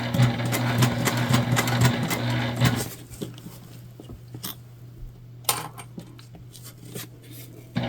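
A sewing machine stitches through a thick seam on a fabric tote bag in a labored, uneven run for nearly three seconds, then stops, followed by scattered clinks and handling noises over a low background hum.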